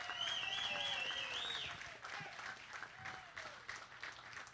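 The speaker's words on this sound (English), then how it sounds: "I expect this to be the loudest applause of the day." Steady applause from a crowd at a county fair livestock show, fairly distant, with whistling and cheering layered over the clapping throughout.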